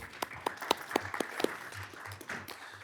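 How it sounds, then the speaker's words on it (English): Applause from a modest crowd, with a few sharp individual claps standing out early before it settles into a softer, thinning patter. "can we give her a big round of applause as well?"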